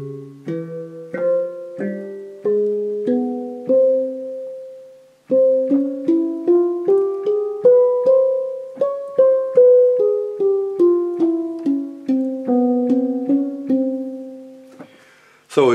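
Handpan notes ring out one by one in a Persian-derived Hitsaskia scale, rising and then falling in a steady run of close, clear strikes, ending with a brief burst of noise.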